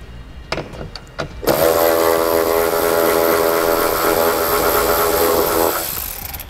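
A power tool with a 10mm socket takes a bolt out of a vehicle during a trailer wiring harness install. After a few light clicks, a loud, steady, close whir runs for about four seconds before it stops.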